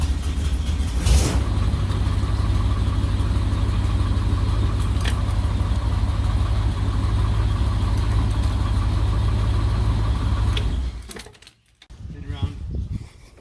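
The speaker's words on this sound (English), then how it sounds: "we fired up the car. And our idle's a little low" A 1963 Mercury car idles a little low after being fired up, a steady close low rumble holding for about ten seconds before cutting out abruptly, followed by a brief quieter stretch.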